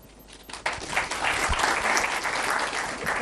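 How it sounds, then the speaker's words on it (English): Audience of university students applauds during a talk with a caretaker prime minister, clapping rising quickly from quiet into steady, dense, loud applause that fills the room, with no talk over it. "this one genuinely deserves a clap"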